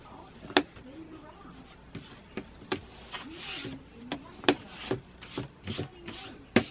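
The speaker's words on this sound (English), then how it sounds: "And now we can go and rub it." Paper pieces glued together for a handmade mini album are rubbed down by hand, giving soft scraping strokes broken by sharper taps and brushing sounds at close range.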